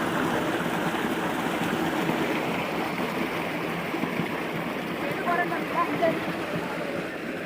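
A fast river rushes in a steady, loud, broadband roar that sweeps along floating leaves. The flow stays constant throughout, with a voice faintly mixed in.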